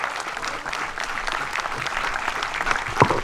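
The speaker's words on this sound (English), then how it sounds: "Ladies and gentlemen, would you give a round of applause for my son" An outdoor Fourth of July audience at Sagamore Hill claps in a brief, steady burst of applause, the whole crowd clapping together at close range with no talking over it.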